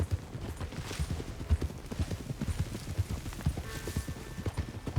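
Horse hooves clip-clop at a steady walking rhythm in Red Dead Redemption 2, close and moderately loud over a low ambient background, with no talking.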